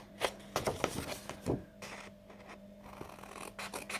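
Quiet, scratchy cutting of paper along a score line while making a shadow box frame, several short strokes and scrapes spread over a few seconds, close and faint.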